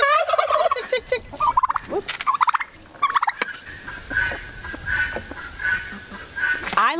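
Backyard poultry, including guineas, ducks, turkeys and chickens, call nearby: turkeys gobble in rapid bursts over squawks and honks, then a steady series of repeated clucking calls follows, loud and close.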